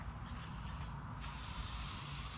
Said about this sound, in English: start letting the air out. It takes just a second, but you can hear it kind of deflating